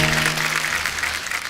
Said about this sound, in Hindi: हमारे सारे सुपरस्टार लोग के लिए जोरदार ताली